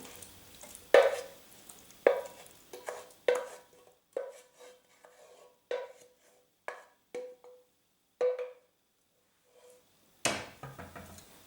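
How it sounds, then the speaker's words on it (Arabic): A cuttlefish tajine mixture with eggs and cheese is stirred in a bowl, giving a series of close, ringing utensil taps and scrapes in an irregular rhythm, with no talking. "نخلط الخليط نتاع الطاجين"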